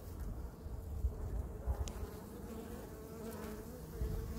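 Honeybees buzz steadily and close by as a beekeeper inspects hive frames in April after winter. A dense, continuous low hum carries through without any speech.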